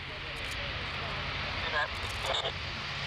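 An Airbus A400 military transport aircraft rolls along a runway at an air force display, its engines a steady broad roar throughout, with brief higher whines rising near the end.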